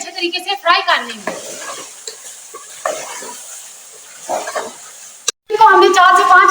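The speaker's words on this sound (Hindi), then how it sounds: "चिकन को ऑयल में अच्छे तरीके से फ्राई कर लेंगे।" Chicken frying in oil in a pot sizzles steadily with occasional stirring clatter, while a voice speaks loudly over it at the start and end.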